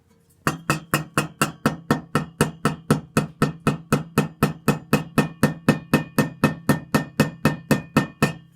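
Steady series of about thirty sharp metallic hammer taps, evenly spaced and close, driving a bushing into place on a 1947 GMC heater blower motor.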